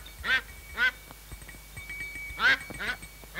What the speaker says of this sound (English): Get that duck out of here.